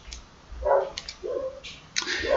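A dog gives a few short, separate barks and yips at close range, spaced unevenly with quiet gaps between them.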